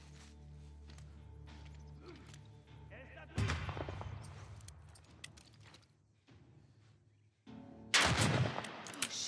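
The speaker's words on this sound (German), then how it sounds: "Schuss und Treffer." In The Last of Us Part 1 video game, a few sharp gunshots crack out, with a loud blast around the middle and another near the end, over quiet game ambience.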